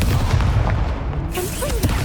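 A Confringo spell blast from Hogwarts Legacy booms loud and close, a dense rumbling burst that fills the whole moment with no talking.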